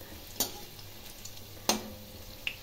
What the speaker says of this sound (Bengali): এইভাবে আমি সমস্ত ফুলকপির পকোড়া ভেজে নেব